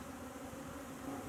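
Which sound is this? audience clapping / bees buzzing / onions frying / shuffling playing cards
bees buzzing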